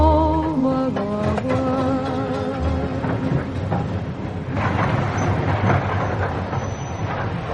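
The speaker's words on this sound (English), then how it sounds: "Train standing at platform 2 is the 610 from Paddington" Train at a station platform as a radio drama sound effect: a loud, steady rumble of rolling wagons with a horn-like tone at the start and rhythmic clatter running throughout, heard alone without voices.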